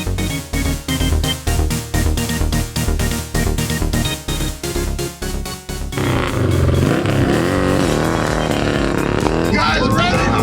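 A raffle-prize motorcycle engine revs loudly up close at a crowded event. Rhythmic throttle pulses give way to a sustained, rising roar, with voices and crowd chatter underneath.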